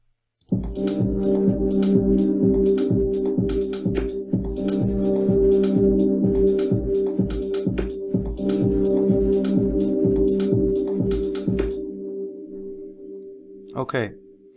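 A music track made in Ableton Live plays back loudly with a steady sustained tone under a regular ticking percussive beat, then cuts off near the end, followed by a brief sliding sound.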